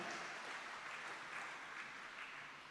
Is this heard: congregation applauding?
yes